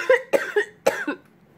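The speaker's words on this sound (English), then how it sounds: "I'm trying not to cough." A person fighting off illness coughs several times in quick, close succession, three or four sharp, husky bursts, then quiet, with no speech.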